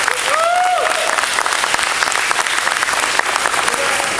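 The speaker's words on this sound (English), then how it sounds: "Give ourselves a round of applause" A commencement audience breaks into sustained applause, a dense, loud wash of clapping that holds steady for several seconds, with a voice briefly heard at the start.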